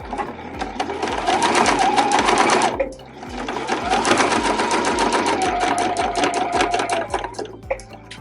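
Sewing machine stitching fabric scraps for a zipper pouch with a 5 mm stitch length: a loud, steady rapid needle chatter, a brief pause near the three-second mark, then continuous stitching again.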